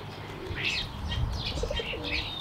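Starlings call in short bursts of bright, buzzy chirps and whistles, about five phrases spread over a few seconds against steady low background rumble, fairly close and moderately loud.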